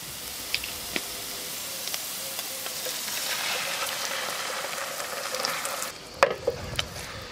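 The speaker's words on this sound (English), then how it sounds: "We make it cook a bit and saute with the onion." Onion and vegetables sautéing in a pan for Sicilian caponata, a steady close sizzle with occasional utensil clicks and stirring scrapes, ending in a few sharper knocks.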